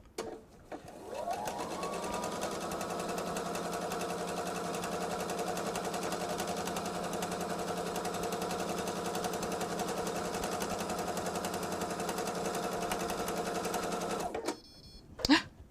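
A sewing machine runs steadily, stitching a seam on a bag made from a jelly roll of fabric strips. It hums continuously and close for about thirteen seconds, then stops abruptly, followed by a short clatter.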